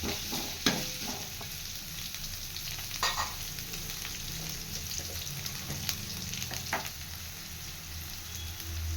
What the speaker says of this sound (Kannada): ಹಸಿಮೆಣಸಿನ್ಕಾಯಿ ನೋಡಿ ಹಾಕೊಂಡ್ಮೇಲೆ ಸ್ವಲ್ಪ ಈರುಳ್ಳಿನ ಫ್ರೈ ಮಾಡ್ಕೋಬೇಕು